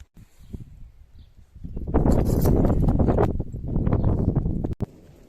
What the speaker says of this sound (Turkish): Şu atın yanına da gidelim.